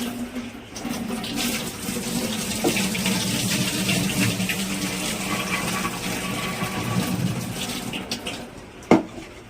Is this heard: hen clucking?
no